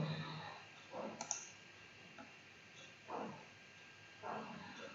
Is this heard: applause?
no